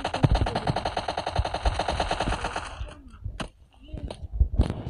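Rapid automatic gunfire from PUBG Lite rattles in a fast, loud burst, then breaks off into a few scattered single shots.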